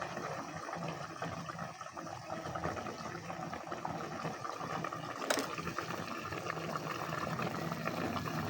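Paksiw na bagus simmering in a pot, a steady low bubbling and hiss with a faint clink partway through.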